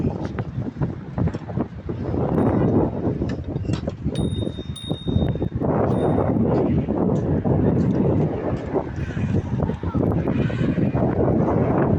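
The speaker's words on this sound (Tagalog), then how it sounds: "Malakas ang hangin." Strong wind buffets the microphone in steady rumbling gusts, with people talking faintly in the background.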